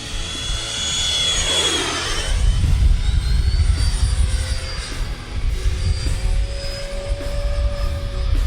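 An RC airplane's propeller engine drones loudly and continuously through a flat spin, its pitch swooping down and back up as the plane rotates, with wind rumble underneath.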